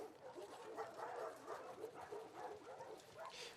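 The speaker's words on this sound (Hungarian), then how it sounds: "Hey, you crazy dog." Dog in The Last of Us Part II video game, faint excited yips and whimpering barks repeating over a quiet background.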